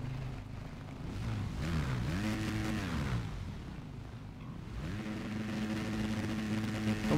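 Motorcycle engines from the racing video game Valentino Rossi The Game, an official MotoGP bike at the race start, rev repeatedly with rising and falling pitch, loud and steady throughout without speech.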